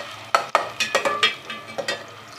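Green chili and onion paste frying in a pan, with a steady sizzle broken by sharp scraping clacks of a stirring spoon, about eight close strokes in quick, uneven rhythm.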